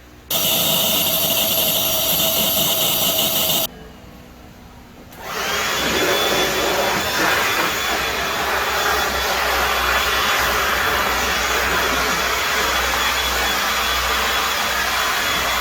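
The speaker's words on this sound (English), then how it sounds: "stage 2 now is a quick vacuum, or maybe a long vacuum" A vacuum cleaner roars steadily over an old couch, starting up, cutting out briefly, then droning loudly and continuously close by with no talking.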